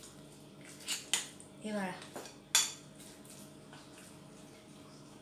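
A utensil clinks and scrapes against a bowl while a sticky food mixture with hot chili is stirred, a few sharp knocks and wet squelches, then a short spoken phrase.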